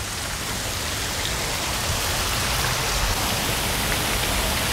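Water splashing steadily in a city fountain in Bordeaux on a hot day, a dense continuous rush with no pauses, fairly loud and close, with no voices over it.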